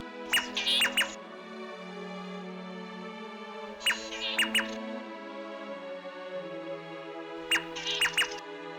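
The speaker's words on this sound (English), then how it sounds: "The males and females' calls are a duet that sounds like the call of one bird." Three bursts of sharp, ringing crimson-breasted shrike duet calls, male and female, at even intervals, each a quick cluster of overlapping whistled notes over a steady low background hum, in Marakele National Park.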